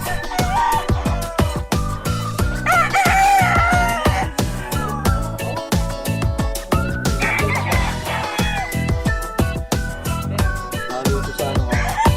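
Several fighting roosters crow and hens cluck nearby on a gamecock farm, calls overlapping amid rhythmic background music that runs throughout.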